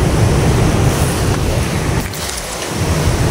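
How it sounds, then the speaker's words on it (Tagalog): Sea waves wash against a pier along the shore at night, a steady broad roar of surf with a brief lull partway through before the rushing swell builds again. "Kung naririnig ninyo guys, dagat yan."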